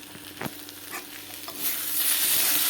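Spices and potatoes fry together in a pan, giving a steady sizzle that grows louder toward the end, with scraping stirs and light clinks of the spatula close by.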